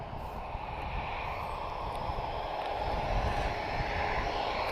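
A Transavia airliner arriving from Nantes at Lisbon Airport, a steady loud jet-engine roar that holds evenly throughout, heard alone with no voices.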